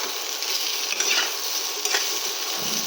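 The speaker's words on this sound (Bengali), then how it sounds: "আরও একটু ভেজে নেবো আমি" Food frying in a pan until browned, giving a continuous loud sizzle with occasional stirring scrapes and light utensil knocks, and no one speaking.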